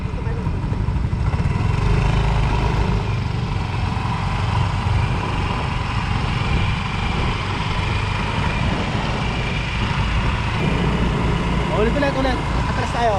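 A motorcycle engine idles with a steady low rumble for the whole stretch, sitting close and continuous while people talk over it.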